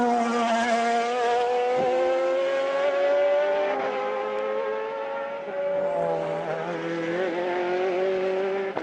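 Le Mans prototype race cars, a Toyota and German BMW open-top prototypes, race at the 1999 Le Mans 24 Hours, loud high-revving engines droning steadily with pitch shifts as they pass close by.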